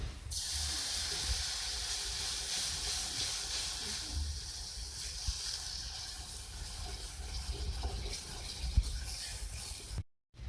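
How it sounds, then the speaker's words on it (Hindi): Water poured into a hot pan of frying kachori salan masala, a loud steady sizzling hiss that runs on for about ten seconds before cutting off abruptly, no talk. "इसमें डालूंगी वाटर"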